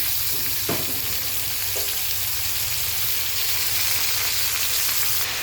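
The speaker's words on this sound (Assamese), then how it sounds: "পিঁয়াজটো ব্ৰাউন কালাৰ ফ্ৰাই কৰি লৈছোঁ এতিয়া মটনটো দি দিছোঁ" Mutton hits browned onions in a hot pan, giving a loud, dense, continuous sizzle of frying with a few brief stirring clatters near the start.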